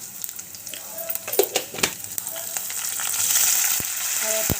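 Whole spices, garlic and two dried red chillies with cumin sizzle and crackle in hot oil for a spinach chutney tempering, a steady frying hiss with sharp pops and stirring clinks throughout.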